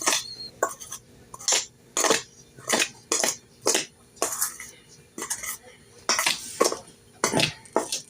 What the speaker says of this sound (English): So I'm going to mix this all up in a spoon.